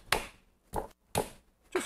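Four heavy, close thuds as a lump of clay is banged down onto a centered clay piece on a pottery wheel while throwing off the hump, evenly spaced with quiet gaps and no talk.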